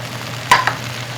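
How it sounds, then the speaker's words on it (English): Peaches get stirred in a pot of melted butter, giving one sharp clink of a utensil against the pot followed by a softer knock, over a faint steady background hum. "So I'm going to be stirring up the peaches in the pot."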